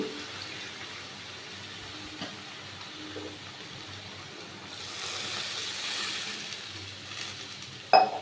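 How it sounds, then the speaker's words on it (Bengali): Water is poured into a pot of milk on a high flame while cooking shukto, a soft steady rush and gurgle that rises in the middle, with a small clink at the end. "দুধ আর জল আমি ততটা পরিমাণে দিলাম"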